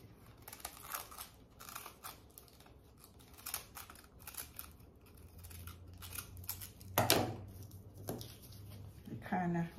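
Scissors snip and trim a banana leaf cone into a Christmas tree shape, a run of crisp close cuts and leafy rustles, a few louder crunches near the end, with someone talking throughout.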